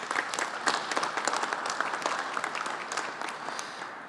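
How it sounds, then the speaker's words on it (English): An audience at a civic leaders' gathering at Union Station applauds steadily, a dense, even wash of many hands clapping that holds at a consistent level throughout with no voices over it. "let's give him a round of applause for his work"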